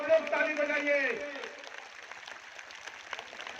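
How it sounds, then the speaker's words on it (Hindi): Crowd clapping at a statue unveiling ceremony, starting under a loud voice and continuing alone as scattered, fairly faint outdoor applause. "जोरदार ताली बजाइए"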